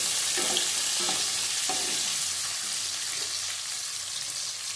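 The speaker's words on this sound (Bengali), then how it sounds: "পেঁয়াজগুলো একটু ভাজা হোক।" Onions frying in a pan with steady, close hiss of hot oil and a few soft scraping stirs early on, no talking over it.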